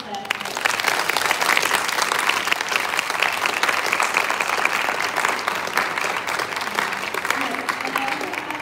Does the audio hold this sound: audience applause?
yes